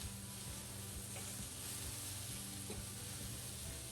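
Onions sizzle steadily and close up on a PC electric grill, a constant loud frying hiss with faint ticking pops and no talking.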